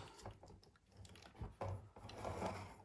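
Lego Technic pickup gearbox ratchet clicking through, a faint, uneven run of small plastic clicks and rattles close by with no talking.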